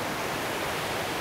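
Waterfall rapids in the Atlantic Forest of the Juréia reserve give a constant broadband rushing roar of white water, steady and fairly loud, with no voices.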